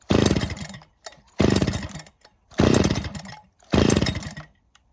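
A Husqvarna chainsaw being started with four repeated pull-cord attempts, each a loud rough burst of engine sputter lasting about a second, separated by short silences, close by and without talk.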